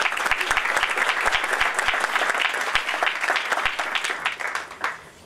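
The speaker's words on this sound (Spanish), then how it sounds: "Le damos un aplauso, por favor." An audience at a digital signature talk applauds steadily for several seconds, a dense, close wash of clapping that tapers off at the end.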